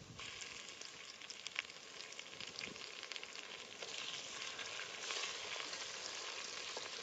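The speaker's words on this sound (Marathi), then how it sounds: "आलं लसणाची पेस्ट टाकल्याच्या नंतर ती मिनिटभर चांगली तळून घेतली कांद्यात" Ginger garlic paste fries with onions in a pan, giving a steady, crackling sizzle close by, with a few soft stirring scrapes and no talking.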